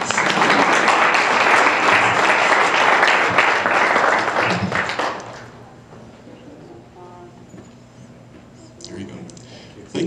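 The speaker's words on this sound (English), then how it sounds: "You can clap." Audience clapping at a thank-you event program fills the first five seconds, dense and steady, then cuts off abruptly to quieter room sound with a few faint taps near the end.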